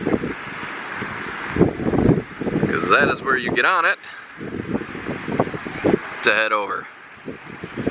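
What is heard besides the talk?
wind blowing into microphone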